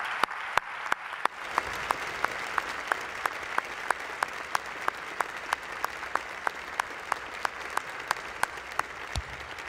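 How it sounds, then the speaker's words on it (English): An audience applauds at a university scholarship ball, a sustained, even round of clapping from a sizable crowd in a large room, with a few sharper individual claps standing out. "I think that's worthy of some applause."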